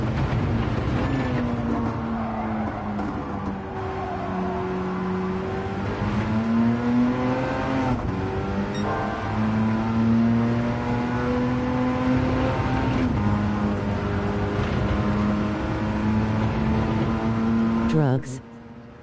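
Car engine in Gran Turismo 7, driven steadily with a continuous loud drone whose pitch rises and falls through gear changes and throttle shifts, ending with a brief sharp burst near the close.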